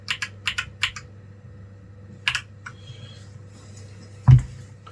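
Keystrokes on an Akko 3061S black and silver mechanical keyboard, with a few quick clusters of sharp clicks and scattered single presses ending in a louder thump, close and alone with no talking.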